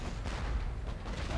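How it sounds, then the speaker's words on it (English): A panzer unit attacks a cannon in the strategy game Civilization 5, giving a dense, rumbling burst of artillery-like gunfire that fills the short moment without pause. "Alright, so let's just take out this cannon with this panzer unit."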